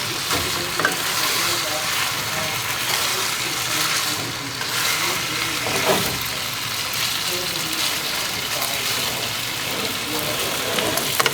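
Onions frying in butter in a pan for chicken enchiladas, a loud continuous hiss and sizzle with occasional stirring scrapes, close and steady throughout.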